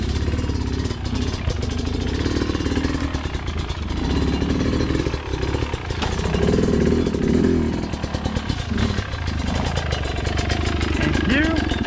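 Motorcycle rolling along a rocky enduro trail at the Avandarocks course, its engine running steadily and loudly throughout with clattering over rough ground and people talking close by over the noise.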